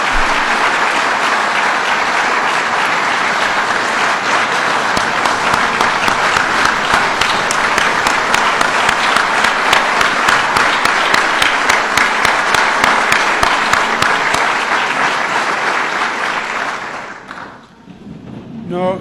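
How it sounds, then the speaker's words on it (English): Sustained audience applause at a New York state legislation signing event in Buffalo, loud and steady with dense clapping for about seventeen seconds before fading out. "Let's give Diana a round of applause."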